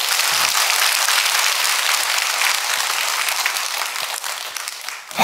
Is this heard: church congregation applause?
yes